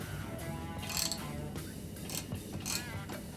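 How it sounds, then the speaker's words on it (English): Screws are loosened on the front fender of a Harley-Davidson 48 with a ratcheting hand tool, giving faint repeated clicking and mechanical ratchet sounds in quick succession over quiet background noise. "In order to remove the front fender we have to remove 4 screws here, so let's do that."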